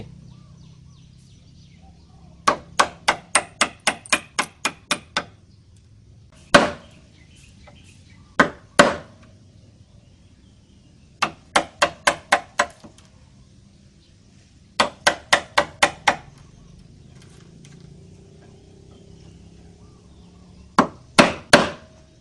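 Mallet blows on a chisel cutting wood for a dovetail corner joint on a cabinet, heard alone as close, sharp wooden knocks that come in rapid bursts of several strikes with pauses between them.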